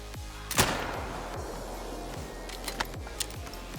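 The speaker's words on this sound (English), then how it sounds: "Now we're actually gonna shoot him." A single sharp, loud rifle shot fired at an animal in a hunting video game, followed by a few faint clicks and ticks over a quiet background.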